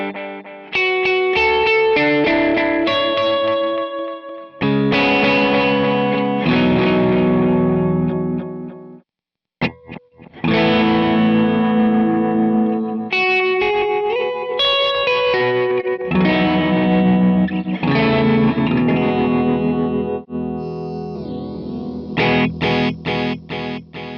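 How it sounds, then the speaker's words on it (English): An electric guitar played through an Aquarius delay pedal rings out in chords and melodic phrases with trailing repeats and effects, loud and continuous apart from a short pause midway, no talking. "we did get the Aquarius delay to work"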